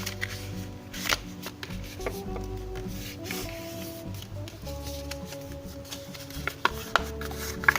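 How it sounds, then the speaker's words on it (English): Paper from an old book cover being folded into accordion zigzag folds, with close, continuous crisp rustling and crinkling plus occasional sharp creasing snaps. "I'm going to make zigzag folds like that you do with accordions."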